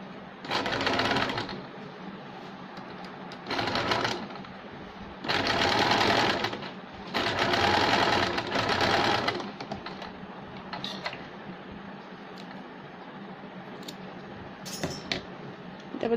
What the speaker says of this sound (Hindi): डबल सिलाई लगाएंगे।